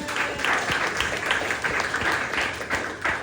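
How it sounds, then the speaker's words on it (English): Audience at a poetry gathering in New York giving a big round of applause, dense steady clapping from a crowd that carries on throughout. "I want you all to give yourself a big round of applause."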